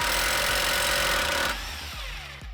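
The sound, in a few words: impact wrench loosening axle nut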